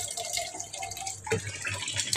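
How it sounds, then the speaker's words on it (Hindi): Water being poured into a pot of rice for cooking, a continuous splashing, trickling flow with a brief louder gush partway through, close by and with no voices. "6 गिलास पानी डालती हूँ मैं 2 किलो चावलों में"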